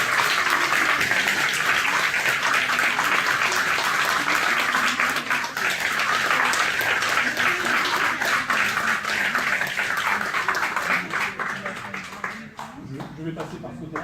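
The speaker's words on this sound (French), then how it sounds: "Je crois qu'on peut les applaudir encore une fois." Wedding guests applauding the couple at a French wedding reception, dense sustained clapping that stays loud then thins out near the end, with voices and talk mixed underneath.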